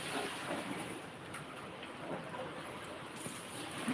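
Steady, dense hiss of rainfall with scattered drops pattering on a surface, continuous and fairly even throughout.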